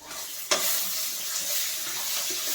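Capsicum and green chilies with coriander seeds, cumin and peanuts sizzling in a pan as they are stirred, a steady close frying hiss with one sharp scrape near the start.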